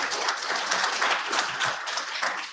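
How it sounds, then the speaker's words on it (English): A panel-discussion audience gives a dense round of applause for the panelists, steady and continuous clapping from many hands filling the room throughout. "a big round of applause for our panelists"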